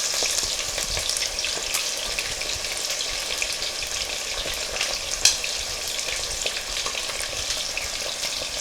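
Chicken frying in a fully loaded skillet of grease, a loud, steady, crackling sizzle that runs throughout with occasional sharper pops.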